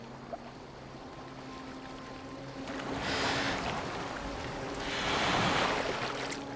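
Boat moving across water in Assassin's Creed Valhalla, a soft wash of waves and hull noise that swells twice into louder surging passages, with a low steady hum underneath and no voices.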